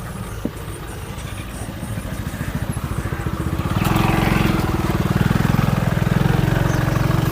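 A 2014 Maruti Ertiga VDi diesel engine idling with a rapid, even low-pitched throb that swells louder and closer about halfway through and then holds steady.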